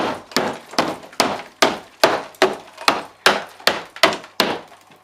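A wooden stud is bashed out with a hammer in a bathroom renovation: eleven sharp, evenly spaced wooden thwacks, each ringing briefly before the next, close and loud with no talk.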